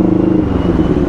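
A Kawasaki Ninja 650 motorcycle engine idles or runs close by, a steady low rumble with light mechanical clatter throughout, heard alone with no talking.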